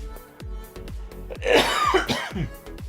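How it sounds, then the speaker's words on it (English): A burst of harsh coughing, several rough hacks in quick succession, close and fairly loud, with a throat-clearing sound leading in. "I'm sorry I'm coughing so much in this episode."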